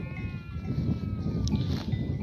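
Sheep bleat on a highland pasture, a few short calls in the open amid a low rustling background.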